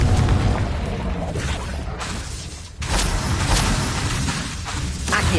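A Confringo fire spell from the video game Hogwarts Legacy bursts into a loud, sustained booming explosion with rumbling roar and whooshing debris, briefly dipping before swelling again, filling the whole stretch without speech.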